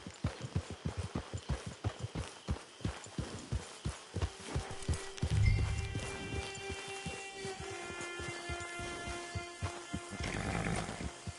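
Steady rhythmic clip-clop of horse hooves in Red Dead Redemption 2 Online, close and continuous, with a musical tone and ambient game sounds rising underneath.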